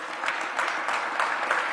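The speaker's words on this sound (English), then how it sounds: "let's give all of our speakers a round of applause" Steady applause from a press conference audience, dense, even clapping filling the room without a break and no voices over it.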